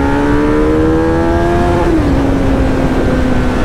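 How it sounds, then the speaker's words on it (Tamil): An engine revs hard on a highway, its rising tone climbing, then dipping briefly before settling into a loud, close, steady drone with wind noise and no talking. "வண்டி சும்மா சீறி பாயுதுங்க"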